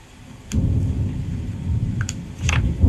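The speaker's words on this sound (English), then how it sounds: "I hope you guys can hear the thunder." Low rumbling thunder during rain rolls in and swells, a deep continuous grumble with a few sharp crackles, heard from a distance.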